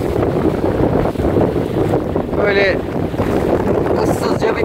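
Strong head wind buffets the microphone on a sailboat in a steady roar over open sea, with a brief voice speaking partway through.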